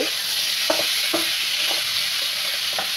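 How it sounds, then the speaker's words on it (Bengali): Fried fish is sautéed in ground-spice masala in a pan, a close, continuous sizzle broken by several soft spatula scrapes at uneven intervals. "মাছগুলো দিয়ে আমি কষিয়ে নিচ্ছি"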